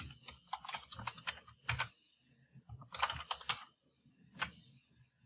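Fingers type on a computer keyboard in quick bursts of clicky keystrokes, two clusters separated by a short pause and a final lone tap, close and fairly quiet.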